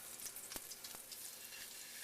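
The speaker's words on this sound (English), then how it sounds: "when you're frying these up, you don't got to get them cooked all the way" Food searing in a frying pan for a Moroccan chilli, a faint steady sizzle and hiss with a couple of soft stirring clicks, no talking.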